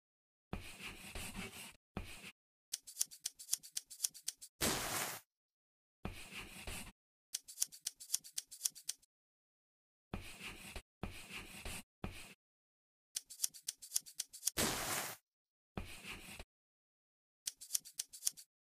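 Scissors cut fabric for a jacket in a sewing dress-up game, in repeated crisp snipping bursts separated by short silences, each run a quick series of close clicks and slices.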